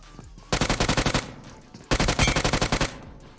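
Two rapid bursts of automatic gunfire in the mobile battle royale game PUBG Mobile, each a loud, evenly spaced string of about ten shots separated by a brief pause.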